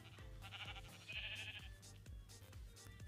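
Sheep in the old Minecraft demo bleating several times in short nasal calls, with soft game thumps and footsteps around them and no speech.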